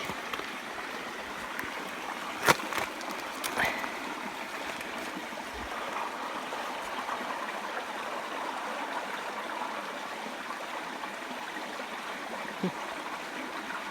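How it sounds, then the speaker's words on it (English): A small seasonal creek flows steadily beside a little beach, a continuous soft broadband rush of running water with a few brief knocks near the start and no talking. "So we could take a quick closer look at the creek."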